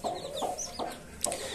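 A hen and her chicks cluck softly at close range in a coop, with repeated short clucks and faint high peeps recurring throughout, no talk.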